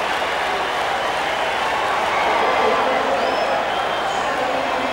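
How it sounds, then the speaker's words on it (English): A packed crowd in the Atlanta Olympic stadium roars after a men's triple jump final leap, a dense sustained wall of cheering and applause heard from within the stands. "the stadium erupted"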